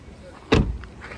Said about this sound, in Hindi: प्रॉपर थर्ड के साथ गाड़ी के डोर क्लोज होते हैं